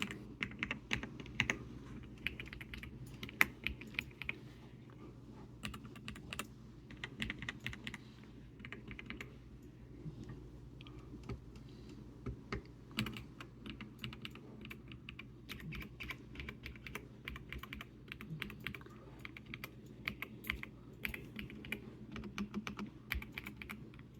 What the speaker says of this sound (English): let's do a quick sound test so you can hear exactly what these cream switches sound like